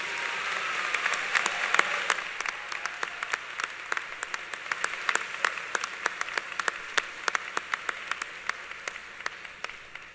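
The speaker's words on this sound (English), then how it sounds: "let's once again please extend a round of applause for the faculty who also supported you through your educational endeavors" Audience applause for faculty at an FGCU fall commencement ceremony: a steady wash of many hands clapping, with sharp individual claps standing out throughout, sustained for about ten seconds before tapering slightly at the end.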